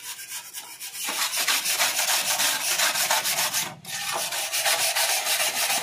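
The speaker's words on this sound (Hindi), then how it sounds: "फिलहाल मैं यहाँ पे स्टार ब्रश का यूज कर रहा हूँ, देखिए इसके अंदर जो भी डस्ट जमा है टोटल बाहर निकल रहा है।" A stiff brush scrubs dust off a motorcycle chain cover in quick, steady rasping strokes, close and fairly loud, with a brief break near the end.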